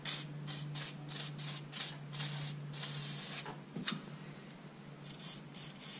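Throttle body cleaner sprayed onto carbon on a motorcycle cylinder head from a CB125E engine rebuild, heard as a quick run of short aerosol hisses, close and fairly quiet, then a few more bursts after a pause.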